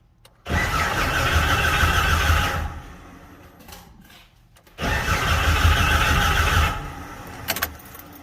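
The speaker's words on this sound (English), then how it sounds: "She'll crank pretty good. She gets fuel up here in the front, but she won't start for nothing." A Jeep XJ engine cranks but won't start, with fuel at the front and the tank nearly empty. Two close, loud cranking bursts of about two seconds each are separated by a short pause.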